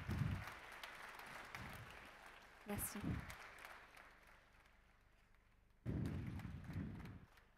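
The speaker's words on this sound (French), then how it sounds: "Allez, on applaudit encore une fois Charlotte pour sa belle finale." Applause from the audience at a barista competition comes in soft bursts at the start, middle and end, and a voice speaks briefly over it.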